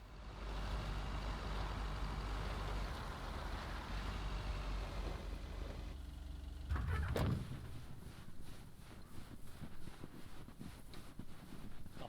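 A car engine in the video game Lake, set on a snowy road, drones with a steady low rumble and wind-like noise, then shifts to a quieter pulsing hum after a brief whoosh, with no talk.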